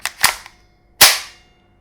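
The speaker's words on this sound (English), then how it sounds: "the sound of those springs in there" Sharp metallic clacks of the bolt of an ASG/KWA MP9A1 gas blowback airsoft gun snapping back and forward, a couple of quick clicks followed by one louder springy snap, up close.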